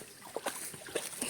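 Pet dog wading through water, giving soft sloshing splashes in a few uneven bursts, close and fairly quiet, with no talking.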